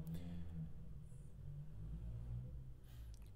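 A car engine rumbles steadily outside, low and continuous, with a few faint rising revs through the clip.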